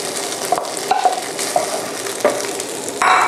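Cooked rice stir-fried in a hot pan over high heat for Thai green curry fried rice, a steady sizzle broken by repeated scraping strokes of a spatula, close and fairly loud, with no talking.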